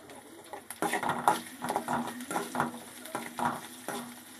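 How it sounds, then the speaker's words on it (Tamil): Mustard seeds, curry leaves, garlic cloves and onion sauté in hot oil in a kadai for an okra stir-fry, with a soft sizzle and repeated close spoon scrapes against the pan. "இப்போ ஒரு கடையில் எண்ணெய் ஊற்றி கடுகு கருவேப்பில் போட்டு அஞ்சாறு பல் பூண்டு வெங்காயம் இதை போட்டு நல்லா வதக்கி விடணும்"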